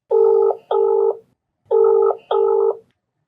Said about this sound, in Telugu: గౌతమి కాల్ చేయనా?